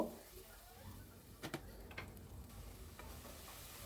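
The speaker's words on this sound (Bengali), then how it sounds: "পেঁয়াজগুলো কিন্তু আমি খুব বেশি লাল করে ভাজবো না" Onions fry lightly in a pan, a quiet low sizzle with a few sharp clicks and scrapes of stirring around the middle, soft and close.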